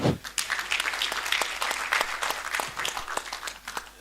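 Steady applause from an audience, many hands clapping continuously at moderate volume throughout.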